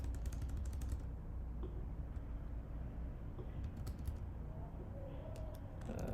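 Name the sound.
typing on a computer keyboard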